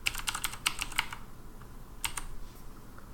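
A computer keyboard clicks under a short run of close, crisp keystrokes as a password is entered, pausing briefly before a couple of final taps.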